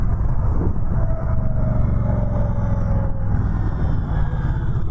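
A 2020 Indian Scout Bobber Sixty motorcycle on the move, with a steady, low engine rumble and wind noise at cruising speed, close and continuous throughout.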